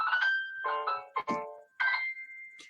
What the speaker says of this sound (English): That was actually my phone telling me that I was live.